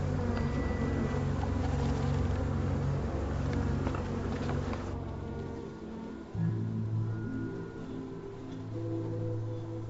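A steady, dense buzzing of many honeybees at hives affected by colony collapse disorder fills the air, close and continuous, with a low droning hum beneath.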